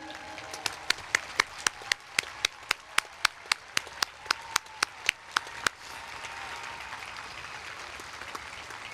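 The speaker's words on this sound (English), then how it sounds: "Would the parents of the graduates please stand and receive our applause?" Crisp, evenly spaced claps sound close by over a softer wash of crowd applause at a spring university commencement for business, engineering and fine arts graduates; the near claps stop partway and the distant applause continues.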